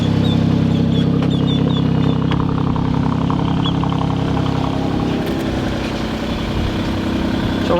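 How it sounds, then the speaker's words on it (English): Alfa Romeo Giulia Quadrifoglio engine idling steadily at close range with the hood open, a loud continuous low rumble that shifts slightly in tone partway through. "I hope y'all can hear me over the car"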